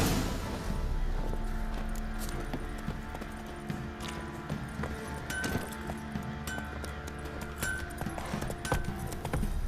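Geralt's horse Roach from The Witcher 3 gallops in steady, rapid hoofbeats over a dense, continuous game soundscape, fairly close and at moderate loudness.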